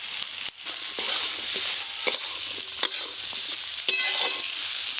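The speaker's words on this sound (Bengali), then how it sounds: "পেঁয়াজ আর ঝিঙে বেশ ভালো করে একটু ভাজা ভাজা হয়ে গেছে" Chopped onion and ridge gourd fry in oil in a pan with a steady broadband sizzle, broken by several sharp clacks and scrapes of a utensil stirring the vegetables; no one speaks.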